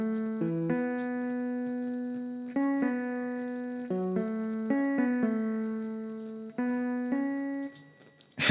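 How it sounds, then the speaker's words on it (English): An electric guitar preset called Bright Humbucker, from Flex in FL Studio, plays a short melodic phrase of clear, sustained notes that change pitch in uneven steps, alone and fairly close. "So it's just a nice guitar from Flex. It's called the Bright Humbucker"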